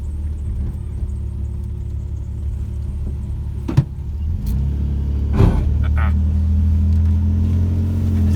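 Exhaust of an AMC Rambler with a 2JZ engine swap and tri-power carbs, rumbling steadily and close, with a couple of brief knocks and bumps partway through.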